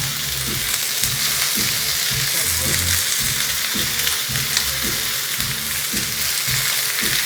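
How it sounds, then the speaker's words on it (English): Rice tipped into a hot pan of spinach, loud steady sizzling and frying close by with rhythmic stirring scrapes, no one talking. "So I'm gonna start adding in that rice as well."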